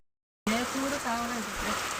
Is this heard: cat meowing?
no